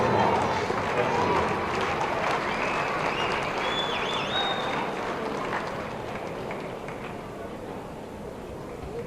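An audience at a 2013 Utah 2A girls basketball state tournament game between Emery and Richfield high schools claps in a steady, dense round of applause that slowly tapers off, heard from within the gym.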